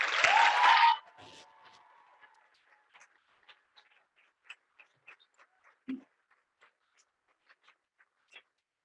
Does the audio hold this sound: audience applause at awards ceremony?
yes